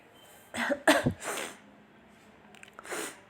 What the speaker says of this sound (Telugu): కొంచెం కోల్డ్ కాఫ్ ఉంది